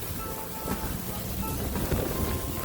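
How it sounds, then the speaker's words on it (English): Hail comes down outdoors as a continuous dense patter and hiss, fairly close and even throughout, with a brief louder hit at the very end. "It's freaking hailing."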